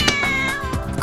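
A cat gives a loud, close, drawn-out meow with wavering pitch and a rich harmonic tone that fills the whole second.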